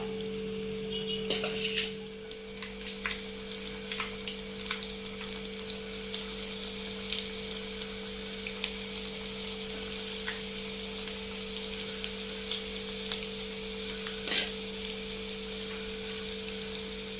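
Breadcrumb-coated chicken pieces deep-frying in hot oil over low gas, a continuous close sizzle with scattered pops and crackles, and a steady low hum beneath it all.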